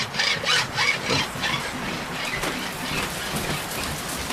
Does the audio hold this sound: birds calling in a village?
no